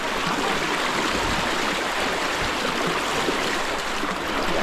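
A strong river current rushes loudly and continuously up close during a crossing, a dense broadband roar of churning water with no break.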